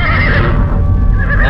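A horse neighs loudly and continuously, a shrill whinny over a rough low rumble, close and with no talking.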